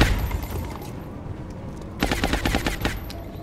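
Bursts of suppressive automatic gunfire in the video game XCOM Long War, a loud rapid volley after a quieter, rumbling lead-in, heard alone without talk.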